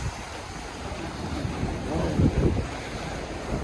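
Strong ocean waves surge and crash steadily against a concrete seawall in Taiwan, with gusty wind rumbling across the microphone; no voices are heard.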